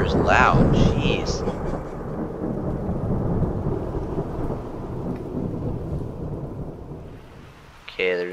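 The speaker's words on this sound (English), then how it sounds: "thunder is loud, jeez" Thunder in the prehistoric survival video game Cenozoic Survival rumbles loud and long under heavy rain, with brief higher sounds at the start and end and no talking.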